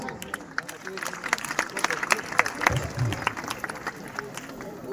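Scattered clapping from a crowd at a Republic Day garba event trophy presentation, light and uneven, mixed with background chatter and voices.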